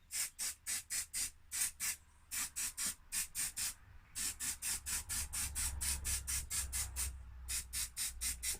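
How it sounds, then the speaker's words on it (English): Rapid bursts of aerosol switch cleaner sprayed over the parts of an Acorn RiscPC600 computer during a strip-down clean, coming in quick hissing pulses grouped in runs with brief pauses between, close and fairly loud. "Just generally give it switch cleaner everywhere, to be honest."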